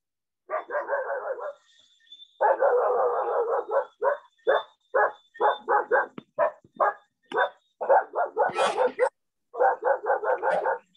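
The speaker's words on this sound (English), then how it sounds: "mute your dog a little bit" Repeated dog barks cut through an online math class, coming in quick bursts and clusters over about eleven seconds, fairly close and loud, with no talk over them.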